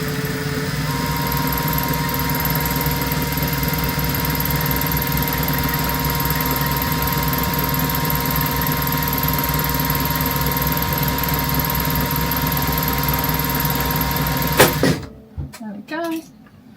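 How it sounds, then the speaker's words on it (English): A sewing machine winds its bobbin with a steady, loud, high-pitched mechanical whir that holds constant for about fifteen seconds, then stops abruptly, leaving a few brief quieter sounds. "I'm just going to wind the bobbin."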